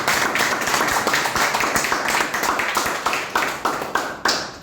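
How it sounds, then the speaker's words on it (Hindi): An audience at a product launch event claps and applauds steadily, a dense run of sharp overlapping claps that swells, then thins into separate bursts toward the end. "तो ये प्रोडक्ट है, जोरदार तालियां इसके लिए।"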